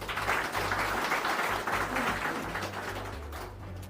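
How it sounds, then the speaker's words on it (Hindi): Applause at a ceremony: a crowd claps in a dense, steady burst that gradually thins toward the end over a low hum. "एक बार तालियां"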